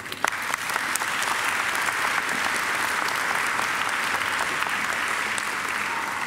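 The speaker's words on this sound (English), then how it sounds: "I think Gavin deserves another great round of applause." Sustained applause from a crowd at a Macquarie graduation ceremony, dense steady clapping at constant loudness throughout with no speech over it.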